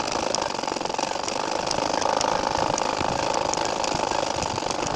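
A sewing machine stitching a nakshi kantha quilt runs in a continuous fast buzz with rapid needle chatter, steady and close throughout.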